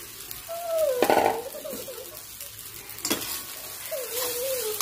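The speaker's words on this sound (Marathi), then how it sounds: "हाय फ्लेमवर याला सतत 2 मिनिट हलत राहायचे." Sabudana khichdi stirred in a pan over high flame, quiet sizzling broken by bursts of scraping spoon strokes against the pan, with a faint tonal whine in between; no talk is heard.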